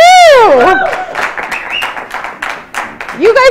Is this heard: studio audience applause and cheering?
yes